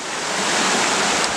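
River water rushes around a person wading in the River Ffyddion at Dyserth, where the water is swollen, deep and carrying debris; a loud, continuous, close broadband wash with no talking.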